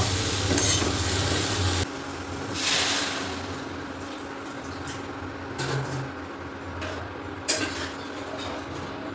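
Water is poured into a curry cooking in a kadai, with a loud rushing hiss for the first couple of seconds before it settles into a softer bubbling simmer and occasional utensil clinks.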